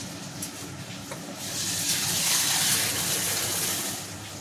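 Tomatoes rinsed under a running tap, a steady gush of water that swells midway and then eases, close and alone with no talking.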